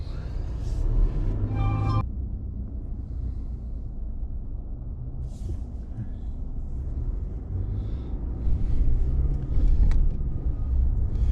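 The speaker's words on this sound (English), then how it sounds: "I'm gonna take my first drive in the new 2024 Toyota Tacoma." A 2024 Toyota Tacoma TRD Sport drives with steady low engine and road rumble from inside the cab. A short rising whine sounds at the very start, then a continuous drone runs throughout.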